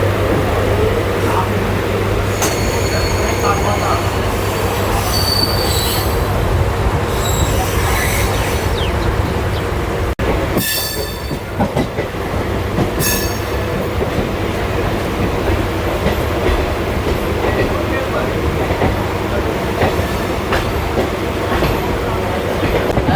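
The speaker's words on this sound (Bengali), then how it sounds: "নির্ধারিত সময় অর্থাৎ ঠিক 12টা বেজে 14 মিনিটে আমাদের ডানকুনি লোকাল শিয়ালদা থেকে প্ল্যাটফর্ম থেকে ছেড়ে বেরোচ্ছে।" A Dankuni local train pulls out of a Sealdah station platform, its heavy rumble and rhythmic wheel clatter continuous and close, with occasional metallic squeals and brief clanks as the carriages move.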